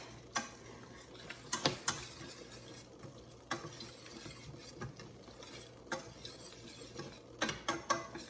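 Flour whisked into softened onions in a pan, faint scraping and ticking strokes of a whisk with a few sharper clinks against the pan, quiet and irregular with no talking.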